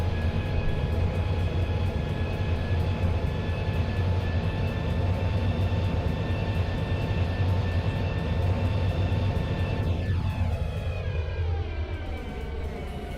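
An Airbus A350 in a flight simulator approaches and lands on runway 04 with a steady engine drone, a constant tonal whine and rumble, and a falling spool-down sweep near the end.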